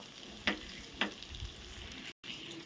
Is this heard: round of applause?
no